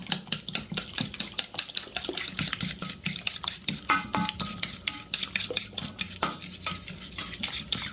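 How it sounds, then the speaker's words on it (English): Sugar being mixed into sesame ball dough in a bowl, a steady run of quick scraping and clinking stir strokes, close and fairly loud, with no talking. "Then we're going to add sugar. So we're going to mix well."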